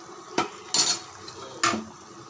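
A utensil scrapes and clinks against a pot of potato kurma in three short bursts, stirring at a quiet, unhurried pace with brief pauses between strokes.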